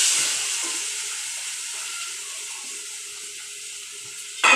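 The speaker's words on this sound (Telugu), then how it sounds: "పసుపు వేసి ఇప్పుడు దోసకాయ ముక్కలు వేస్తున్నాం" Cucumber pieces sizzle in a turmeric tempering, a loud hiss at first that slowly fades to a softer steady sizzle, with a brief clatter at the end.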